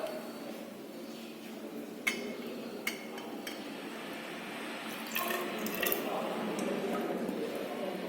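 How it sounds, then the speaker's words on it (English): Water from a tap or bottle runs into a laboratory measuring cylinder to measure 30 ml, a steady close trickle with a few sharp clinks of glass, no talking. "take a measuring cylinder This is the measuring cylinder and measure 30 ml of water."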